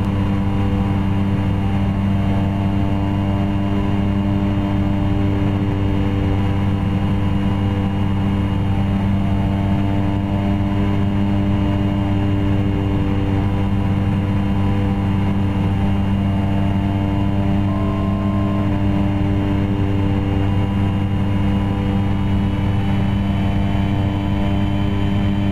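Steady drone of a Carenado Cessna 208 Caravan's PT-6 turboprop engine in X-Plane 11, a loud, unbroken hum with strong low tonal harmonics and a constant propeller whir, no voices.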